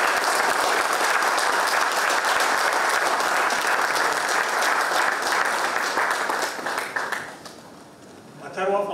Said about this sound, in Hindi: सब मिल के उनको ताली बजानी चाहिए